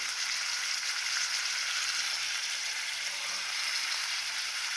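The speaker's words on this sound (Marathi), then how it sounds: "आता कांदे टमाटे टाकून घेऊ. कोथिंबीर पण टाकून घेतली, लसूण आणि काजू पण टाकून घेऊ." Onions, tomatoes, garlic and cashews fry in hot oil in a kadhai, giving a steady, close, fairly quiet sizzle that holds evenly throughout with no talking.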